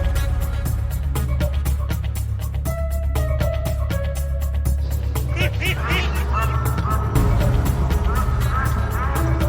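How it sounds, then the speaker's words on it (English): A farm duck quacks in a run of short, nasal calls that repeat over a steady low rumble of background noise. "Duck."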